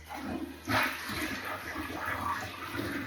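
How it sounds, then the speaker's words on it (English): Bathroom toilet flushing during cleaning, a steady rushing, gurgling wash of water with a brief louder surge near the start, continuing evenly throughout. "I'm going to give it one more flush"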